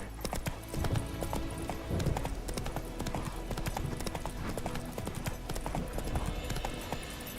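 A horse gallops with a steady, rapid clip-clop of hooves in the video game The Witcher 3, loud and continuous, with the odd snort over a dense background.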